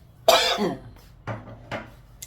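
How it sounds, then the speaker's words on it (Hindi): A single loud, harsh cough burst followed by two shorter coughs, close by, with quiet pauses between. "खांसी उठी आई, और गाइस खांसी भी उठी आई"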